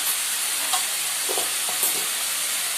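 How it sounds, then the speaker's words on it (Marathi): Half a spoon of cumin seeds dropped into very hot oil for chicken biryani, a steady bright sizzle and hiss with faint popping, close by. "आणि आता मी या स्टेपला जिरं टाकते बघा, अर्धा चमचा जिरं."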